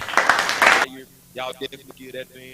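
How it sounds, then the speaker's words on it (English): Hands clap for a man in a quick, close burst lasting under a second, followed by someone talking. "Y'all give that man a hand clap."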